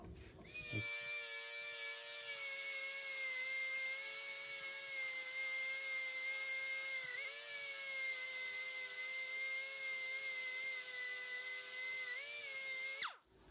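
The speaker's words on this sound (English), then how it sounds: "The second way of sharpening that broken tap is using a die grinder, again with a flapper wheel" Die grinder fitted with a flapper wheel grinding a broken tap, a steady high-pitched whine running continuously for about twelve seconds with slight pitch dips as the wheel loads against the metal, then cutting off abruptly.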